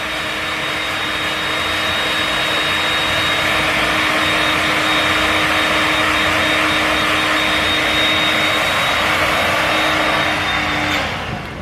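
Hair dryer blowing hair back during a bouncy at-home blowout, a steady loud whoosh with a high whine running nearly twelve seconds before cutting off at the end, no talking.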